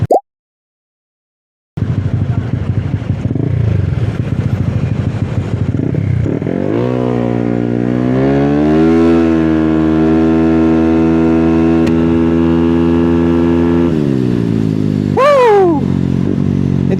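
A motorcycle engine fires up after a short silence and idles, then is revved in a sustained rise below full throttle, held steady for several seconds and settling back, loud and close, with a brief sharp rev near the end.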